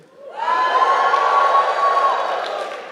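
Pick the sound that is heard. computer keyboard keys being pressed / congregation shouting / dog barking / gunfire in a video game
congregation shouting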